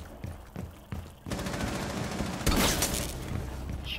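Rapid in-game gunfire during a ranked shooter match: a few sparse shots at first, then a sustained dense volley of loud automatic fire with a sharp burst near the middle, no talking.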